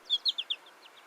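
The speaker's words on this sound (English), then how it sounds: "it has a very nasal, squeaky sound that sounds like a pig" A small songbird gives a quick 'potato chip' call, four sharp high chirps in a rapid burst followed by a couple of fainter notes ending in a nasal, squeaky, pig-like squeal, alone and fairly clear.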